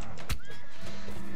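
A horse whinnies in the medieval battle game Mount and Blade Warband, a brief, loud neigh rising over a steady background of battle noise.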